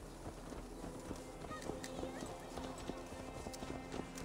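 Rhythmic hoof clip-clops of a horse sound steadily under a busy Assassin's Creed Valhalla game soundscape with voices mixed in.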